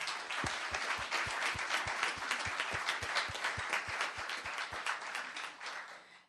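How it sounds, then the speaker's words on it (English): Applause at the Los Gatos town council meeting, a room of people clapping in a brisk, continuous burst with clearly distinct hand claps that taper off toward the end. "Big applause. So thank you, and let's have a hand for them."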